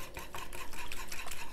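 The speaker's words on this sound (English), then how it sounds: "so now we're gonna use our whisk." A whisk beating one large egg into a cup of warm tap water in a bowl, giving a steady run of quick, close scraping and clicking strokes against the bowl with no talk over it.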